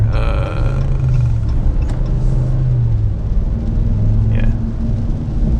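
A 2022 pickup's engine rumbles loudly from inside the cab on a wet road, its low drone rising and falling in pitch as it accelerates with light throttle and some hesitation, with steady road noise throughout.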